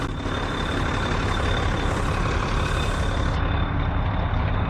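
A Case IH Magnum 7220 Pro tractor, just back from a powershift repair, runs in a steady, loud, continuous engine drone with a faint high whine, with no voices heard.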